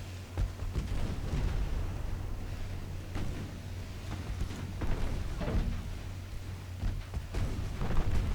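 Heavy, muffled naval gunfire from the Ultimate Admiral Dreadnoughts warship game, with dull booms rolling one after another over a steady low rumble of sea and engines, and no voices.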